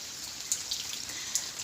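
Rain falls on trees in Doi Tao district, Thailand, as a steady soft hiss with a few sharper drops and drips now and then, fairly close and heard alone without voices.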